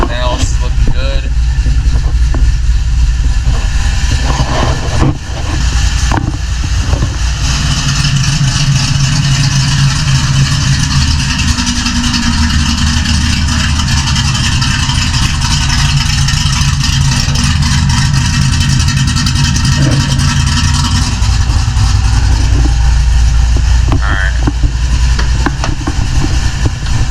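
A Chevrolet Camaro engine with an exhaust cutout runs loud and close, a steady low idle rumble with a few brief revs and mechanical clicks, while a person talks over it at times.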